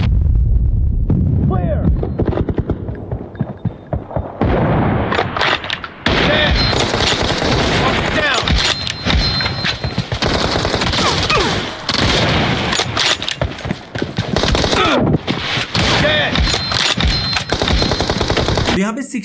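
A video game plays through Edyell V5 earbuds with rapid machine-gun bursts and heavy gunfire, loud and dense and nearly continuous for about twenty seconds, with booms and short gaps between the volleys.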